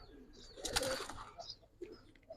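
Pigeons on a rooftop loft give soft cooing calls mixed with brief flutters and small chirps, close and fairly quiet over light background noise.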